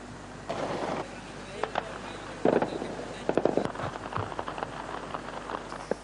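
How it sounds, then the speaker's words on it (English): Anti-aircraft fire from an air defense system aimed at LTTE aircraft over Colombo at night. It comes as bursts of distant rapid cracks and pops in irregular clusters, with talk mixed in. "The air defense system, which was activated at the time, carried out continuous attacks on the two aircraft."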